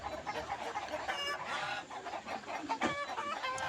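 Egg-laying hens on a Tiger chicken breeding farm cluck in a dense, continuous chorus of many birds, steady and fairly faint, with no one speaking.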